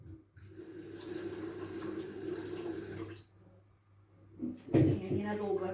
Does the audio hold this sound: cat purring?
no